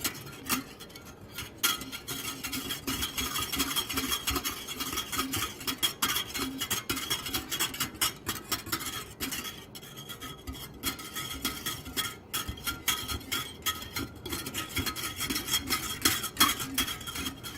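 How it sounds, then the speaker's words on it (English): Almond milk being whisked in a container, a close, continuous rapid scraping and clinking of the whisk against the sides, steady and without talk. "Alright, so I have the almond milk. I'm whisking it right now."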